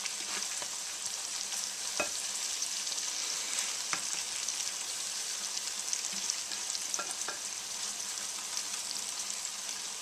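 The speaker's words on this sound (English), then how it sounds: "We'll let that butter just melt right up" Butter melts and sizzles in a pan over low heat, a steady, gentle frying hiss with scattered small pops and crackles, close and unbroken, with no voices.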